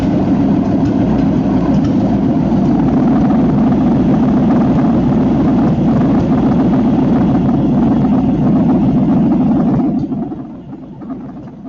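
A carbureted car engine runs steadily during an ignition timing check, a loud, even idle rumble close by that continues for about ten seconds before abruptly dropping away as it shuts off.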